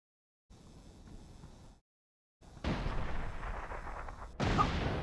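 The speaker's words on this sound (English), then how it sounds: "Use a cruise missile." Cruise missile strike explosions in the video game Mercenaries 2 on PS2: a brief rumbling blast, a short silence, then a heavy roaring explosion that sustains and swells into a second loud burst near the end.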